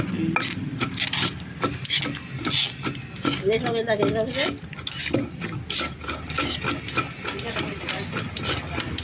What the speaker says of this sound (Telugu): వేసిన మెంతులు జీలకర్ర పిండి వేసి నూరుతారు